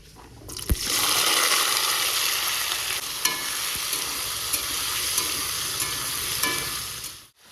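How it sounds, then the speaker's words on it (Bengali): Nigella seeds, dry red chillies and potatoes frying in hot oil, a loud sudden sizzle that holds steady with occasional stirring clicks before fading out. "প্রথমে দিচ্ছি কালো জিরে শুকনো লঙ্কা আলু"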